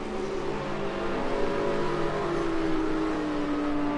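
Porsche GT race car engine at sustained high revs on track during a British GT round, a steady loud drone with a slowly falling pitch as it runs continuously.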